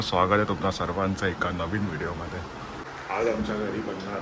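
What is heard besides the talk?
No distinct noise like a dog, phone or traffic.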